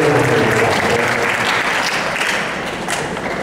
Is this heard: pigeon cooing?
no